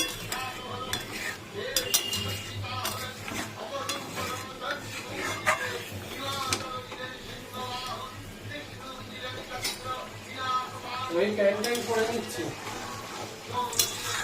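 A spoon scrapes and stirs through a curry in a cooking pot, with clinks of metal on the pot and light sizzling, repeated strokes throughout, while someone talks over the cooking.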